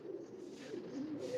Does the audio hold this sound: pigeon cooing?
yes